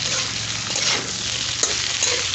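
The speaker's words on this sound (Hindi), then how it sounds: "इस तरह भिंडी को हल्का सा फ्राई कर लीजिए।" Okra (bhindi) frying lightly in a pan with salt gives a steady, loud sizzle, with occasional stirring scrapes and soft pops on top.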